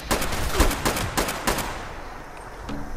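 Gunfire in the video game Fallout 76: a quick volley of sharp, loud shots in the first second and a half, then fading reverberant rumble with no speech.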